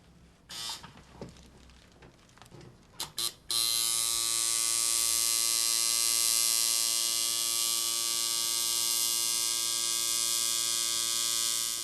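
A tattoo machine runs steadily while lining, a continuous close electric buzz that starts after a few brief handling clicks and holds at an even level to the end.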